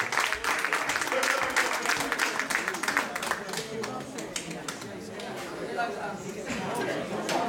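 A seniors' association crowd in Vlodrop applauds steadily for several seconds, with chatter and voices mixed under the clapping.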